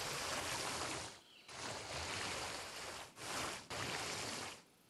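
Flowing water in the dinosaur park game Jurassic World Evolution, a steady, loud broadband rush like a stream that drops out briefly twice before resuming, with no talk over it.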